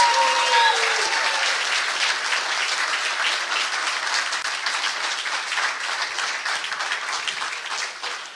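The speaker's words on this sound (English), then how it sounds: "Let's give him one more big round of applause." A political rally crowd in Allen, Texas applauds loudly for the governor, dense sustained clapping that slowly tapers, with a few faint voices at the very start.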